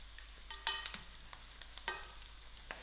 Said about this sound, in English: I'll give this a nice mix and allow my garlic to fry out a little.